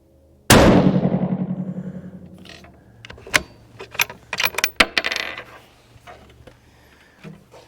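A single 6 Creedmoor rifle shot cracks sharply and loudly with a decaying ringing tail, then metallic clicks and clatter follow, likely the bolt cycling and brass ejecting.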